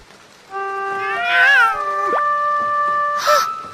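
A cartoon cat meows in an animated children's story about a rainy farm day, a drawn-out wavering call followed by a short rising mew and a brief final chirp, loud and clear with no talking over it.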